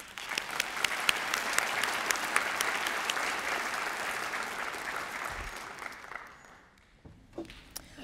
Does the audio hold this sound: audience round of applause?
yes